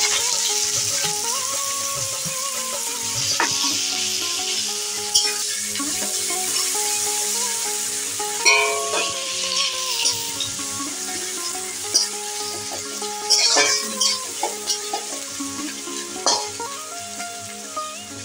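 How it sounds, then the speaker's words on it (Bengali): Onions frying in hot mustard oil in a pan for a mutton bhuna, a steady sizzle with the scrape and clatter of stirring breaking through now and then, fairly close and alone without talk. "এখন পেঁয়াজটাকে ভেজে নেব।"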